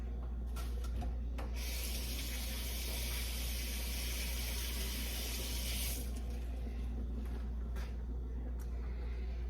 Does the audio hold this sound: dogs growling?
no